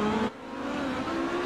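HPD and DuPont race cars passing on a circuit, a loud, close engine roar with a sharp pitch change as one car goes by and another follows at steady high revs.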